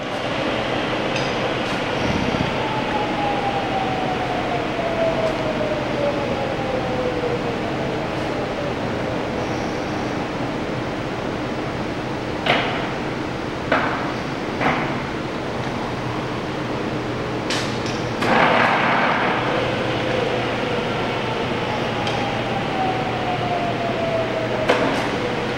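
A Carlton radial arm drill runs at 109 RPM in a machinery shop, a steady mechanical hum and whir with a few sharp clicks and knocks scattered over the running drone, no voices.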